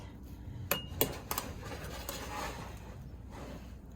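Metal clinks and scrapes against a pot as rice on the stove is checked and stirred, a few sharp taps close by followed by softer scraping.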